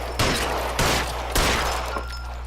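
Three sharp, loud gunshots in L.A. Noire, evenly spaced about half a second apart and each ringing out briefly, fired with no talk.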